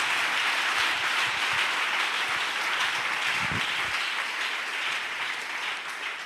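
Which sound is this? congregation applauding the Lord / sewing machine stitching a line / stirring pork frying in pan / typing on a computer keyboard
congregation applauding the Lord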